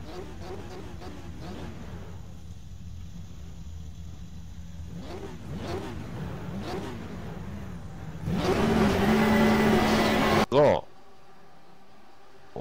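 Porsche GT3 Cup race cars approach at Zandvoort, engines rising from a distant drone to a loud, close roar around the eighth second before cutting off abruptly, with talk over the start.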